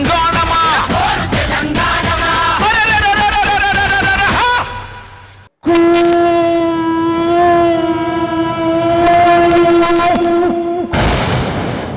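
A mimicry artist at a Telangana celebration event imitates a train with the lips, producing loud, sustained whistle-like tones and rumbling chugs that break off briefly midway, then resume strongly.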